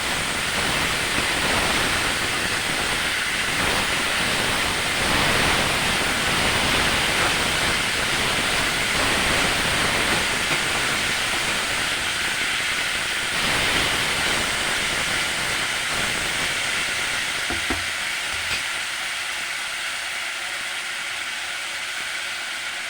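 Something frying in a pan, a dense, even hiss that runs nearly unbroken and close, easing slightly toward the end with a faint knock or two, no voices.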